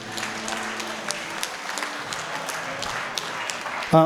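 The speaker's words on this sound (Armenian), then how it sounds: "ծափերը բարձր" A live audience at a stage show or school event claps in steady, moderately loud applause that carries throughout, ending with a short burst of music.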